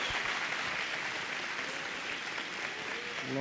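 Congregation applause in church during an evening summer seminar, a steady, fairly soft wash of many hands clapping that continues without break.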